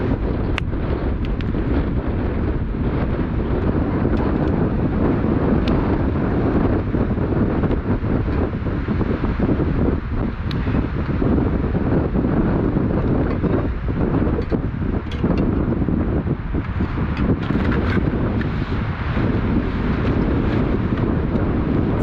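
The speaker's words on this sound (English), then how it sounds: "But let's hope the wind dies down." Strong wind of up to 50 mph roars without pause across a frozen lake campsite in freezing temperatures, a loud, dense rushing that buffets the microphone throughout with gusts and flaps.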